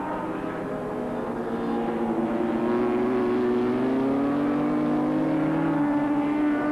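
Superbike racing motorcycles, one a 750cc-based machine making 100 horsepower, pass on a 1985 race track in a steady roaring engine drone that rises slightly in pitch, continuous and fairly loud.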